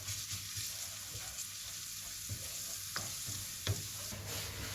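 Vegetables and cumin seeds being stirred in a frying pan for a stir fry, with a steady sizzle under repeated soft scraping strokes and a few sharper spoon clacks, close and moderately loud, no voices.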